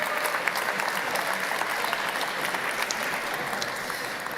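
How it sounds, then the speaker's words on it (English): Steady, dense applause from a large audience at a PES party congress, loud and continuous for several seconds with no talk over it. "give a big applause"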